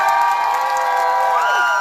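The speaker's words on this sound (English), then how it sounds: "start clapping, start making some noise" An excited crowd cheers, whoops and claps at an in-store unplugged Coheed and Cambria show at the Gallery of Sound record store in Wilkes-Barre, a dense, steady roar with high shouts rising above it.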